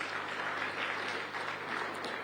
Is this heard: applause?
yes